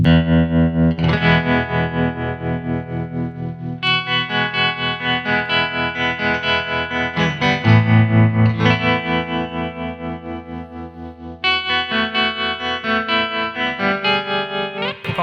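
An electric guitar through a modelled Vox AC30/AC15-style amp plays chords with a pulsing, wavering tremolo and reverb, loud and continuous with no voices.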